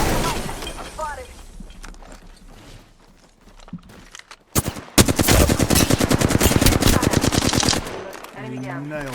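Automatic gunfire from the Apex Legends video game rattles in a long, loud, rapid burst after quieter game sounds and a few single shots, with voices talking briefly at the start and end.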